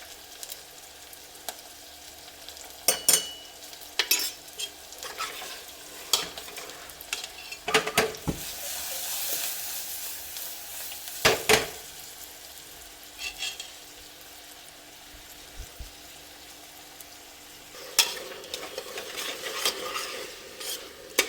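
Ginger garlic paste and tomato cook in a pan that is sticking a little at the bottom, with a low, even sizzle broken by sharp scrapes and knocks of a spoon against the metal, close by, and no talking.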